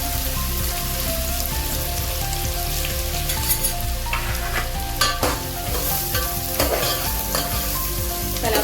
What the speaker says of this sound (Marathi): आता ही कडवी मेथी टाकल्याच्या नंतरला आपण हा कांदा टाकूया।